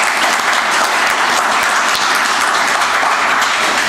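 An audience at a Baldwin County Commission regular meeting applauds honorees with dense, loud, continuous clapping throughout, close and unbroken, with no talking over it.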